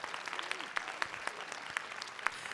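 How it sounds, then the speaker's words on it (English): A school district event audience gives a round of applause, heard as faint, scattered clapping with a few sharper individual claps standing out against a quiet room. "Community, let's give him another round of applause."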